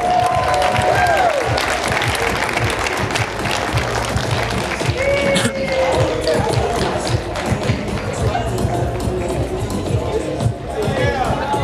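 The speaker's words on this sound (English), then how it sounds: "One more round of applause for Sean" Sustained audience applause and cheering at a high school prom fashion show, with claps, stomps and crowd noise, and voices calling out within the steady roar.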